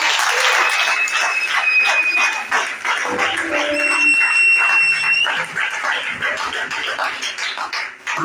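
A church congregation at a Sunday service in Abidjan applauds loudly and continuously, with dense clapping, a few whistles, and voices cheering in the crowd.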